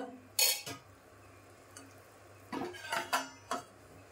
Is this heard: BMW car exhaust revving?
no